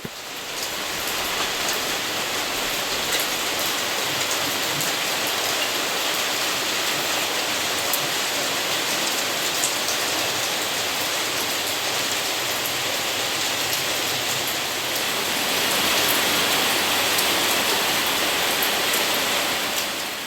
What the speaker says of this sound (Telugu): ఒకవైపు బయట వర్షం గట్టిగా పడుతుంది